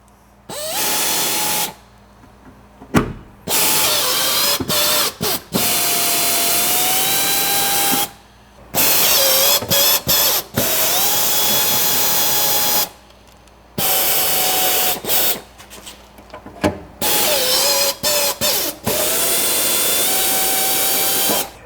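A power nutsert installation tool sets rivet nuts into drilled holes on Jeep fender armor, whirring loudly in repeated bursts of a few seconds each, separated by short pauses, with a sharp click at each stop.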